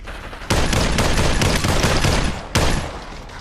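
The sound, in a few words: gunfire in VR video game Population One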